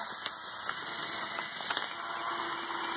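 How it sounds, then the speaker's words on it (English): Lego L motor driving a continuously variable transmission geared down five times, giving a steady mechanical whir with a faint ratcheting, gear-rattling texture that runs continuously and evenly throughout. "the engine still runs at full speed"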